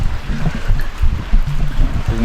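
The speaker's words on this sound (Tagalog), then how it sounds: "lakas ng agos diba? Hindi siya halata pero ang daming tubig na talagang bubuhos." Strong current of water pouring down from a mountain stream, a steady close rushing flow with no spoken words over it.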